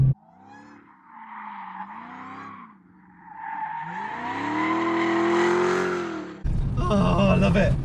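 A Dodge Challenger Demon muscle car revs hard, its engine note rising and falling in long sweeps before swelling into a sustained high-revving roar, with a harsh burst of tire noise near the end.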